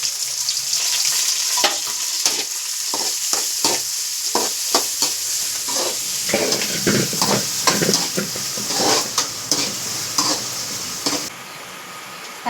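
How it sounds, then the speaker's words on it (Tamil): Tomatoes, onions and green chillies sautéing in a pan make a loud, continuous sizzle broken by repeated stirring scrapes, easing to a quieter hiss in the final second. "தக்காளி வெங்காயம் நல்லா வதங்கிடுச்சு."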